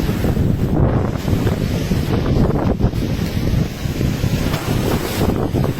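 Strong wind blows through a village in Marathwada, roaring steadily and buffeting the microphone without a break, with a gusty rumble throughout and no voices.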